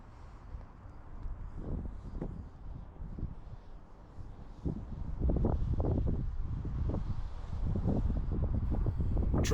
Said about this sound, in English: Wind was really gusty at this point